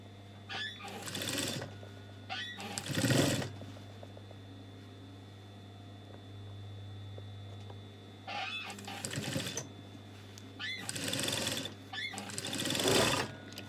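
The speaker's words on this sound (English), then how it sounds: "So I'm taking it to the machine now. I'm going to stitch it." A sewing machine stitches a trouser leg with gold thread, running in several short bursts of rapid mechanical chatter separated by quieter pauses, close and clear with no talking.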